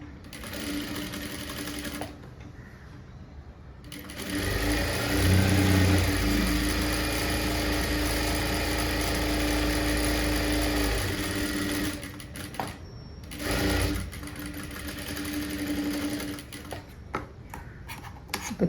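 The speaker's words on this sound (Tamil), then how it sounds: "ரெண்டு பக்கமும் அப்படி 1/4 இன்ச்சில் மடித்து தைச்சிக்கோங்க." A sewing machine stitches a blouse sleeve hem folded a quarter inch on both sides, running in a steady loud whir of about seven seconds with shorter starts and stops before and after, and no talk over it.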